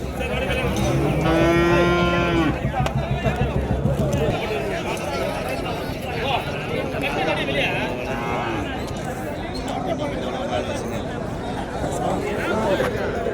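HF cattle and calves at a village cattle market in Madrappalli: a loud, drawn-out moo rings out close by over steady crowd chatter, followed by fainter lowing further off as people keep talking.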